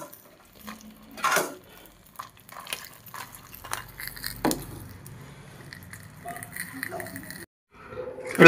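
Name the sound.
squeezing soaked tamarind and chilies by hand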